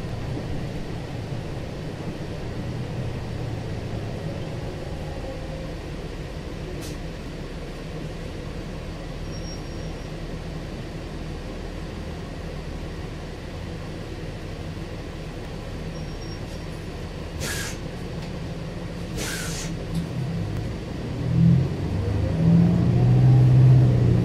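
Interior of a 2013 New Flyer XD60 articulated city bus in service, a steady low engine and road rumble throughout with a couple of brief rattles, rising slightly louder near the end.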